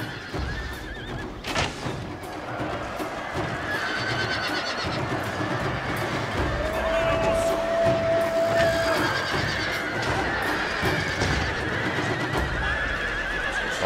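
Horses whinny and neigh amid a dense rumble of galloping hooves and battle noise in a cavalry battle in Total War: Shogun 2, one long clear neigh standing out in the middle.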